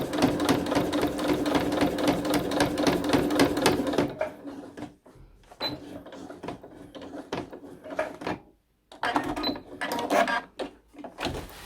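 A sewing machine stitches a pillowcase seam in a steady, rapid run for about four seconds, then stops, leaving quieter fabric handling, clicks and rustles.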